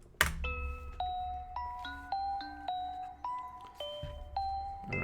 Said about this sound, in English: starting off in a church with some creepy-ass bells